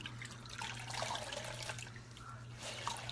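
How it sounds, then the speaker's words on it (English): Warm water runs from a tap while skin is rinsed off at a sink, a soft, steady splashing trickle with small irregular drips and a low hum beneath. "I'm now going to rinse this right off with some warm water"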